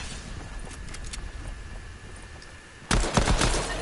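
Gunfire in a Fortnite match: a quiet stretch of faint clicks and background noise, then a sudden loud burst of rapid shots near the end, close and harsh.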